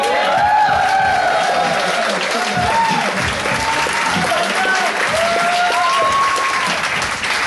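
Comedy club crowd at the Icehouse applauding a comedian's introduction, with dense, loud, sustained clapping and some cheering and whoops throughout.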